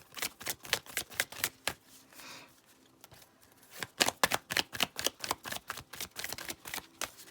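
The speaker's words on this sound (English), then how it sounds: "Being guided to shuffle again." A deck of tarot cards is shuffled in quick bursts of crisp, rapid riffling clicks, close and clear, with a short pause in the middle before a longer run of snapping riffles.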